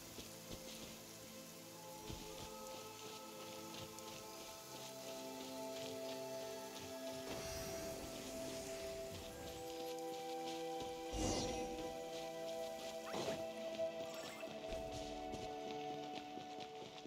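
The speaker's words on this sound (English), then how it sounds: "Don't stay out in the rain for too long." Steady rainfall patters across the open world of the video game Genshin Impact, a soft continuous hiss of drops with occasional louder splashes and footstep-like clops, fairly even throughout with no speech.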